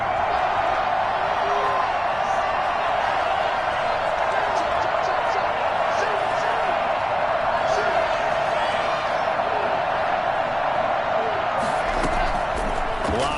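Stadium crowd noise at an NFL football game, Broncos at Bills, swelling ahead of a big third down; a steady broad roar fills the whole clip, loud and continuous, with a brief burst of added noise near the end.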